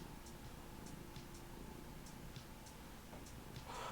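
A one-year-old tabby cat purring close by, a steady low rumble running continuously under faint ticking, with no talk.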